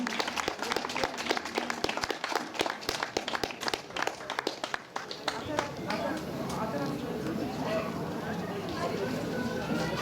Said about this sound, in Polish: Śmiało, śmiało, można bić brawa, bardzo prosimy.